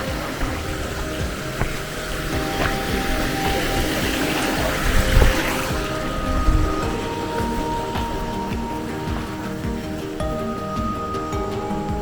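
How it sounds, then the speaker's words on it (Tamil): A stream in the hills near Kodaikanal rushes steadily as a continuous loud wash of flowing water, close by, with a few low thumps partway through and no talking. "இந்த ஓடை தான் அந்த பக்கம் வந்துட்டு இருந்துச்சு."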